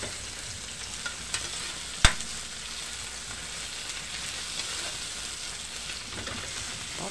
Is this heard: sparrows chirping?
no